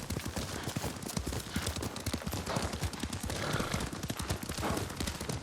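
Horse hooves clip-clopping in a steady galloping rhythm during a ride in the video game Ghost of Tsushima, loud and continuous across the whole stretch with busy in-game ambience.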